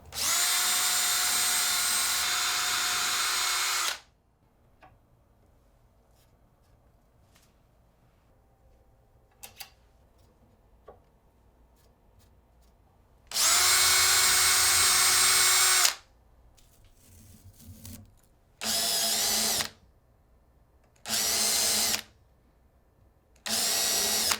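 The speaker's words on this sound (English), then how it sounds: "I'm going to use a jig to drill the 2 screws on the back of the headstock" A power drill whirs in several bursts, a long run at first and then shorter ones, separated by quiet pauses, drilling screw holes through a jig into the back of a guitar headstock.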